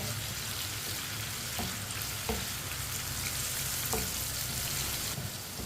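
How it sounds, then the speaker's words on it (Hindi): Tomatoes frying in a pan for a homemade palak saag, a steady close sizzle with a few soft spoon scrapes and knocks as they are stirred, no voices. "इसे ऐसे ही चम्मच चलाते हुए पकाना है।"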